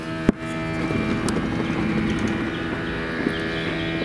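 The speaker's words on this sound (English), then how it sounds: "down goes the top" A Porsche 986 Boxster's convertible top lowers electrically, opening with a sharp click, then a steady motor whir and mechanical hum under faint wind, with small knocks as the panel moves.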